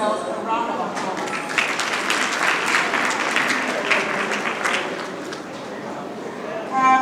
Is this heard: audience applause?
yes